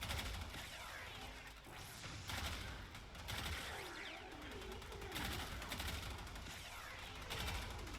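Rapid bursts of Tiberon Prime rifle fire in Warframe, sharp repeated shots fired in quick volleys across the stretch, loud and close over a busy game soundscape.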